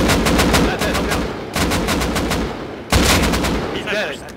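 Rapid bursts of automatic gunfire in the survival video game Rust, loud and close, with repeated rattling shots broken by brief pauses.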